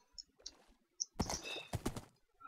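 A few quick hoofbeats from a horse in Minecraft in a clattering burst with a rustle behind, brief and fairly close, following some faint clicks.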